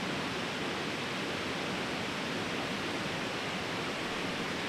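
A loud river rushes past a car campsite, a steady, broad hiss of flowing water that stays constant and close with no other sounds breaking through.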